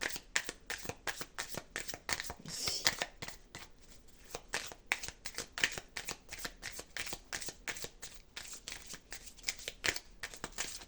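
Tarot cards being shuffled for a card reading, a long, steady run of quick riffling flutters and soft slaps, close and fairly loud, with no talking.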